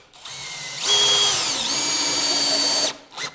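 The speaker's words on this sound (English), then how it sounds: "use the Torx bit we provided you in your cordless drill" A cordless drill with a Torx bit drives a screw into a wall stud, a single loud whirring run that spins up, bogs briefly in pitch as the screw bites, then stops with a short final burst.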